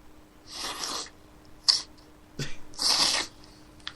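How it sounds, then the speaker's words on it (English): A man blows his nose in short bursts, with two longer noisy blows and a brief snort between them, close and fairly quiet. "That is the sound of a man blowing his nose."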